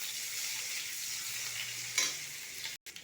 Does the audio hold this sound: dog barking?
no